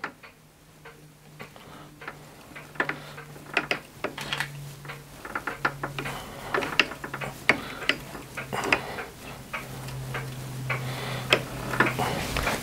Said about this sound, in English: hopefully we can recut the thread to what it's supposed to be